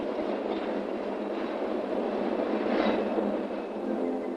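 A PATH commuter train runs with a continuous, dense rumble of wheels on rails, steady and fairly loud throughout, swelling slightly in the middle.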